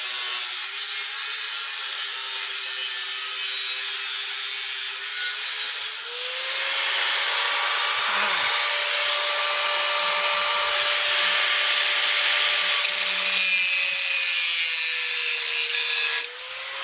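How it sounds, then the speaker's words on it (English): A power tool cuts a metal template in a garage while working on a shifter install in a Honda Civic EK. A loud, continuous high grinding whir runs throughout, with its pitch dipping briefly partway and dropping again near the end. "So Just go ahead and finish cutting this template."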